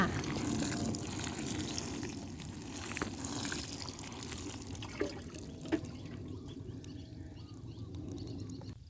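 Water poured onto the soil around a newly planted guava tree, a steady close wash of flowing water with a few soft splashes and drips, tapering off near the end.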